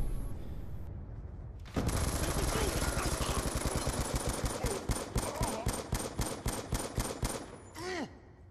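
Sustained rapid bursts of LSW light machine gun fire from Call of Duty Black Ops 2, loud and close, starting after a brief quiet gap and running as dense automatic fire before trailing off near the end.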